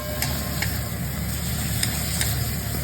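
Spice paste and chopped tomato are stirred in a pan, with a continuous moderate sizzle under a low rumbling hum and a few faint scraping taps of the utensil.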